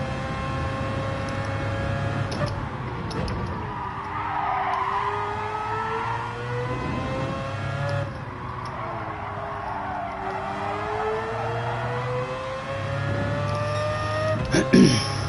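A car engine in Gran Turismo 7 revs and holds high, rising and falling in pitch through gear changes across a long continuous stretch, with a voice speaking now and then underneath.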